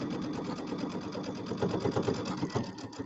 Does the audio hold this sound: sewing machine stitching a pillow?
yes